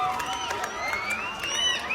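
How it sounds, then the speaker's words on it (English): A crowd at a school gathering cheers and applauds for the principal, a dense wash of voices and scattered claps filling the whole moment without pause. "Give him a big round of applause."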